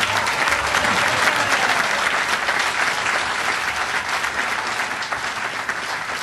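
A large crowd of university students applauds and cheers in a steady, dense roar of clapping that holds loud throughout.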